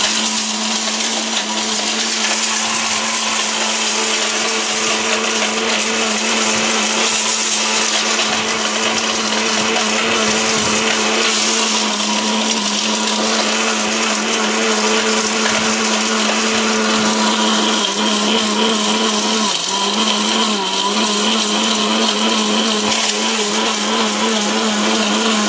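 A kitchen blender with a fan-cooled, full-copper motor runs continuously and loud, a steady high whir holding constant with small shifts in pitch as the contents churn.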